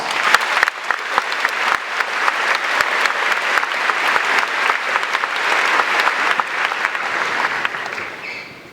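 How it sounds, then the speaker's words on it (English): Graduation crowd, the class of 2018, giving a loud, sustained round of applause with sharp claps standing out from the dense clatter, holding strong for several seconds before tapering off at the end. "Please give yourselves one more round of applause."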